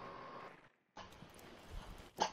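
A dog barks at its own reflection in a terrarium indoors, a few sharp barks rising above a steady background of game noise and ending with a louder burst.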